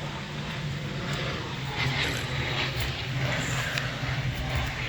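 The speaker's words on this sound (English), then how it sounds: "that was a private jet" A private jet passes overhead outdoors in a front yard as a steady, broad roar of engine rumble and hiss, sustained throughout at moderate distance.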